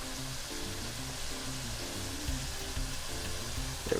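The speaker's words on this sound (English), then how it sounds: "This is why you need the heat to be real high, or else you will be cooking your meat instead of just searing it." Beef searing in a very hot pan for roast beef, a steady broadband sizzle running continuously and fairly quietly, with a low background hum and a brief knock near the end.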